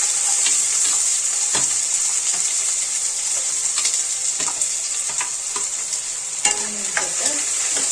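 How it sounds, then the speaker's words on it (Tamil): Mustard seeds spluttering in hot oil in a home kitchen: a steady bright sizzle broken by irregular sharp crackling pops, close and fairly loud, with no voices. "கடுகு சவுண்ட் வரும்போது ஆனியன் கட் பண்ணி வச்சுட்டு ஆனியன் போடு"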